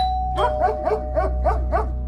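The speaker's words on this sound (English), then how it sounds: "I was literally watching a video when the doorbell rang and Gringo started barking" A steady electronic doorbell tone sounds while a dog barks repeatedly in an even rhythm, six sharp barks close by.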